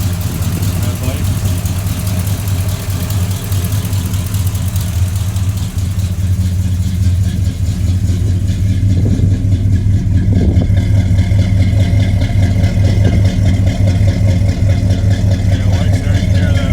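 A 1971 Chevrolet C10 pickup with a Quadrajet carburetor idles steadily and loud up close, a constant low engine drone with a slight rise partway through.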